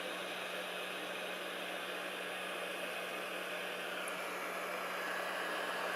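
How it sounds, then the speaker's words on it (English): A heat gun fitted with a small nozzle blows hot air during work on an Amiga 1000 power supply, a constant faint hiss and low motor drone that holds steady throughout. "So let's see what happens with the heat gun."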